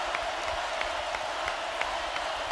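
A packed outdoor amphitheatre crowd at a rock concert applauds steadily, a dense hissing wash of clapping with occasional sharper claps standing out, sustained and moderately loud from a distance.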